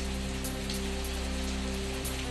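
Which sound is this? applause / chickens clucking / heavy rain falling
heavy rain falling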